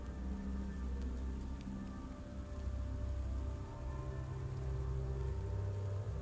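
Steady rain falls in a video game, a continuous dense patter with no talking.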